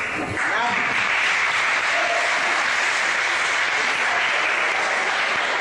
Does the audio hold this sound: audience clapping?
yes